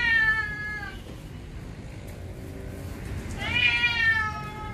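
A Maine Coon cat being bathed in a bathroom gives two loud, drawn-out meows, one at the start and another near the end, with a quieter stretch between them.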